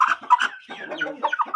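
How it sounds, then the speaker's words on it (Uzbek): A young Kül Shamo rooster, a strong three-month-old bird, gives a short series of close, loud clucks and throaty calls, a few clipped notes followed by a longer warbling call, with no talk. "Kül Şamı o'ta baquvvat xo'roz"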